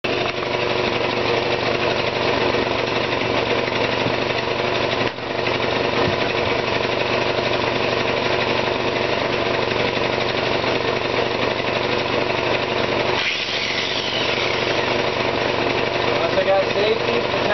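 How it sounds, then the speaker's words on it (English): A cutoff wheel grinds through metal pegs, a steady loud abrasive whine running almost unbroken for the whole stretch, with brief dips and a short pause near the middle before cutting resumes. "I've got to cut off these pegs so I can continue the work here and finish painting"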